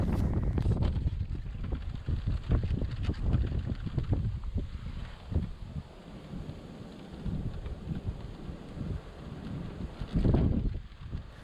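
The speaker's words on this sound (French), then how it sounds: "Le vent souffle très très fort ce matin et il fait très froid" Strong, cold morning wind buffets the microphone outdoors during a driven wild boar hunt, in heavy, roaring gusts that rise and fall, rumbling loudly throughout with no speech.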